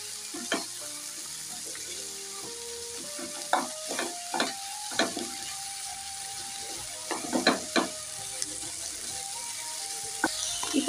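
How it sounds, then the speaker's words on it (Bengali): Spice masala with cumin powder fries in a pan for a soya chunk and katla fish dish: a soft continuous sizzle runs under repeated spoon scrapes and clinks in irregular bursts, close and fairly quiet. "এবার আমাকে এই মশলাটাকে ভালো করে কিন্তু একটু কষাতে হবে।"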